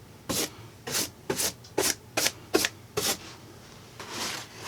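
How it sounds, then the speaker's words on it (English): Cloth or sponge wiping paint across a sculpted model railroad mountain, seven distinct rubbing strokes in a steady rhythm, close and fairly quiet, with a softer longer swipe at the end. "Just wiping that down like that"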